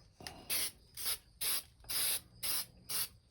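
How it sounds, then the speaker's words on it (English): Spray paint hissing from an aerosol can in six short, evenly spaced bursts, each a close, sharp hiss with quiet gaps between. "I just have to learn how to use the spray paints."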